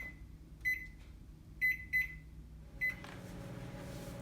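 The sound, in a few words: microwave oven cooking dill potatoes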